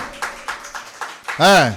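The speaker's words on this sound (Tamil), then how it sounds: "கைத்தட்டலாமா" A church congregation claps in a steady rhythm, about six evenly spaced claps, before a voice rises loudly over them.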